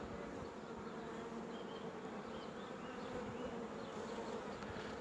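Honeybees buzz around an open beehive during an inspection, a dense, continuous droning hum that stays steady and close throughout without any talk.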